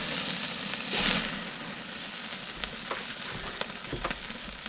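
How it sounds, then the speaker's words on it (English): BBQ chicken pieces sear in a hot pan with a soft, steady sizzle, punctuated by a few faint clicks and taps of handling, fairly quiet and without speech. "I'm going to sear the rest of the pieces."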